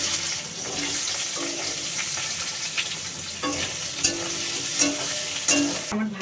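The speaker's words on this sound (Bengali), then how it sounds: "আমি আলুটা ভাজবো আগে মোচার" Potatoes fry in oil in a kadai wok with a steady sizzle, accompanied by intermittent scraping and clinks of a utensil stirring against the pan, with no talking.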